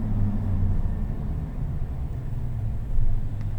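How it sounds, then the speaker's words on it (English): Soft off-road tires on a 2021 Chevrolet Silverado 1500 LT Trail Boss produce a steady low rumble and hum inside the cab while driving, continuous with a slight swell near the end. "The soft off-road tires do provide a little bit of road noise"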